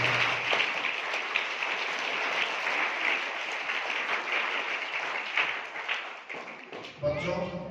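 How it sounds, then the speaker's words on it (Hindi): Audience of mothers, staff and children at a school Mother's Day gathering applauding, a long, dense run of clapping that thins toward the end as a voice begins. "और एक बार माता बहन जो पधारी इनके लिए ताली बजाइए।"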